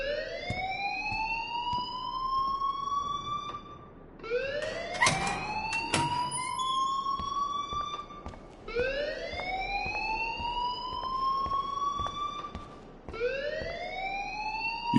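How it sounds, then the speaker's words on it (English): A school fire alarm in the video game Life is Strange wails in long rising sweeps, four cycles repeating at moderate loudness with no voices over it. "please turn off that alarm since that's your job"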